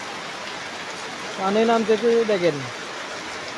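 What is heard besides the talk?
heavy rain falling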